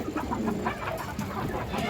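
A large female pigeon at a pigeon sale, giving low, steady throaty cooing and clucking calls close by, repeating in soft pulses with no talking.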